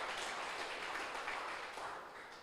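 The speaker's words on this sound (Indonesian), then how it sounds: "Mari yang percaya berikan tepuk tangan yang meriah buat Tuhan." Church congregation applauding at a Sunday worship service, a dense, steady wash of clapping at moderate distance that gently fades toward the end.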